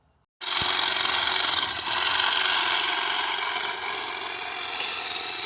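Greenworks 24V cordless hedge trimmer switching on abruptly and running with a steady, loud, close buzzing whir that holds to the end, alone without talk.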